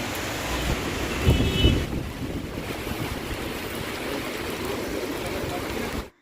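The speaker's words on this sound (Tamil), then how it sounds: "நான் வந்த நேரம் மழை வந்துருச்சு" Heavy rain drums steadily at a bazaar in the Andaman Islands, a dense broadband roar with a couple of low rumbles early on; loud and continuous until it cuts off abruptly.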